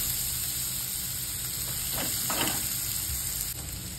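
Steady hiss of spices and coriander sizzling in hot tempering oil fills the whole stretch, with a couple of brief louder crackling bursts near the middle.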